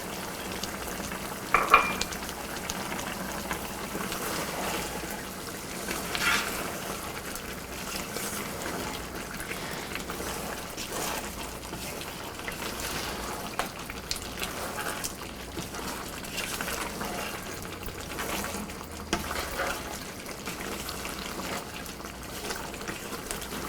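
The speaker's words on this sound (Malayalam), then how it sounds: "1/4 കപ്പ് കട്ടിയുള്ള തേങ്ങാപ്പാൽ ആഡ് ചെയ്തതിന് ശേഷം നന്നായിട്ട് മിക്സ് ചെയ്യുക" Thick coconut milk is stirred into a simmering Kerala-style chicken roast, a soft continuous sizzle and bubbling with scraping stir strokes and occasional clinks, fairly quiet and with no talk.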